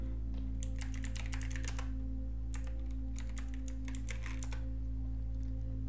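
Short bursts of quick keystrokes on a computer keyboard while a web search is typed, clicking in two clusters over a steady low electrical hum, close and with no one speaking.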